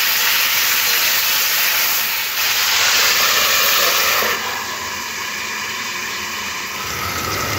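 Beetroot and potato pieces cooking in a covered pan give off a steady, loud hiss of steam and sizzle that continues throughout, easing slightly partway through, with no talking.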